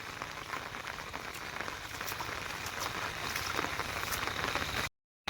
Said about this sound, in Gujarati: આ સવારમાં આજે ઘણો વરસાદ આવી રહ્યો છે.